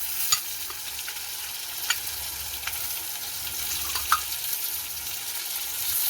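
Chopped tomatoes stirred into a frying egg devil in a pan, with a soft continuous sizzle and a few light scraping clicks from the spoon, fairly quiet and close.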